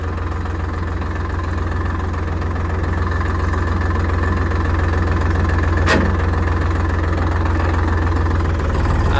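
A Sonalika DI-745III Sikander tractor diesel engine idles with a steady low rumble, loud and close, holding an even throb throughout with one brief sharp click midway.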